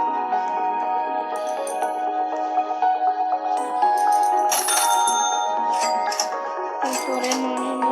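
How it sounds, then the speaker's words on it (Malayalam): Bells in a Roblox game ring in a bright, layered chime that carries for several seconds with no talk over it. "കുറേ മണിയുണ്ടോ"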